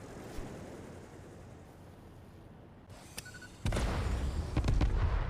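Fireworks exploding in the game Satisfactory: after a quiet stretch with a faint pop, a few sharp cracks lead into a dense run of loud, booming bursts and crackle.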